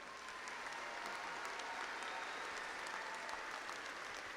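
A graduation audience at Angelo State University's spring commencement claps for graduates in a dense, even round of applause that stays steady and fairly distant throughout.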